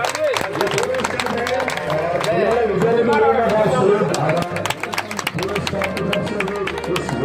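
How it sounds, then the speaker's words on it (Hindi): An audience claps at a school retirement ceremony for a headmaster in a Rajasthan village, scattered sharp hand claps rising into a clustered round under a man's continuing amplified speech and background chatter. "केसराम जी सर के समय इनके लिए एक बार जोरदार तालियां हो जाए"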